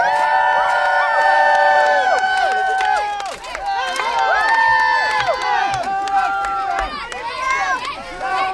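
Crowd at a Renaissance fair joust cheering on knights, a dense wash of overlapping shouts and excited voices sustained throughout, with children's cries rising above the din.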